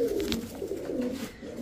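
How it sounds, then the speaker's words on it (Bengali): A Prince Kamar pigeon coos in low, soft repeated notes when released, heard close and alone with no talk. "ছাড়েন দেখি কবুতরটা"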